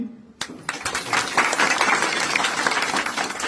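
An audience at a hospital gathering breaks into applause after a sharp initial clap, with dense, close clapping that builds and holds steady.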